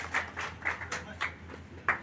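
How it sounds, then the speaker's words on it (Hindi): Several people clap in loose, uneven bursts at a crowded 75th birthday celebration for Professor Ram Gopal Yadav, with a steady low hum running underneath and faint voices mixed in. "ताली तो बजा दे।"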